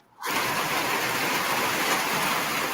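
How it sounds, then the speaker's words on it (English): Steady rain drums on a tin roof, a dense, even hiss that starts abruptly and holds at a constant level throughout, with no other sounds. "I can tell it's raining when I step out here immediately."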